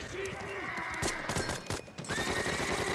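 Horses neighing in a scene from the Band of Brothers World War II drama, loud whinnies over dense battle noise with gunfire, hoofbeats and clattering, while voices shout.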